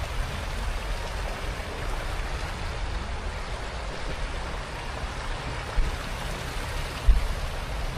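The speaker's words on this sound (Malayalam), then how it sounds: "നോക്കി, ഇതാണ് സിന്ധു നദി." The Indus river, running low on the road to Sonamarg in Kashmir, gives a steady broadband rushing of flowing water, even and unbroken, with a couple of slight bumps toward the end.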